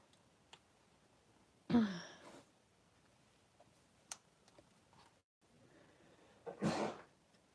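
Two sharp sneezes, one early and one near the end, stand out against a quiet room with a few faint clicks between them.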